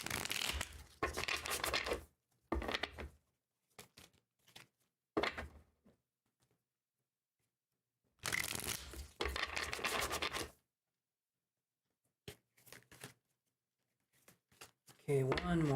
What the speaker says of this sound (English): let's do a couple more shuffles here